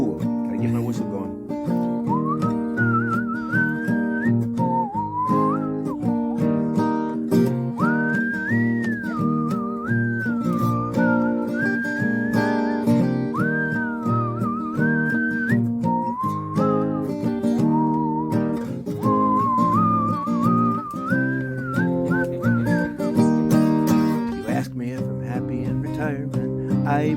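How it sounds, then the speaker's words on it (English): A person whistles a wavering melody for a long stretch, clear and close, over steady instrumental backing music. "gotta get my whistle going"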